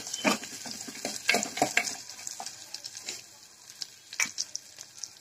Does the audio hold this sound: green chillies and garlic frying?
yes